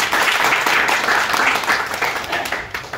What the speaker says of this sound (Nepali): ताली पिट्ने काम पछि आउँछ।